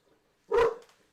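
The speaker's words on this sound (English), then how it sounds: "The dog next door has to bark, so Bailey feels like he has to bark." A single sharp bark from a dog indoors, close and loud, rising abruptly and fading over about half a second against an otherwise quiet room.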